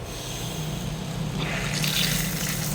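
Hot water running steadily from a multi-point water heater tap, a continuous close splashing flow that grows slightly brighter midway.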